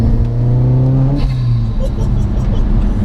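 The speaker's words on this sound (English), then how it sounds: "Makes a fantastic noise when it's on boost as well." A Ford Focus RS Mk1 turbocharged hot hatch engine revs hard on boost, a loud, steady, close engine drone that rises through the revs and then eases off.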